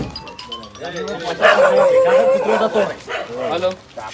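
A dog barking and yipping in a village setting, several sharp close barks mixed with someone talking over them.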